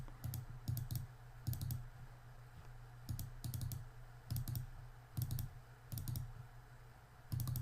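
Mouse buttons double-clicking in BICOM software, paired quick clicks repeating in a steady rhythm, close and fairly quiet over a low background hum.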